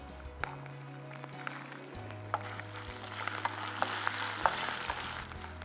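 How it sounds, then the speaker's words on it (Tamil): Shallots and garlic sautéing in a pan give a steady, fairly quiet sizzle, broken by sharp ticks and pops and by occasional stirring, with no voices. "வெங்காயமும் பூண்டும் கொஞ்சம் வதங்கிடட்டும் நல்லா"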